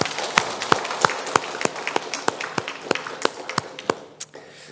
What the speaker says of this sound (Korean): 찬양대 위에서 한번 축복의 박수 한번 합시다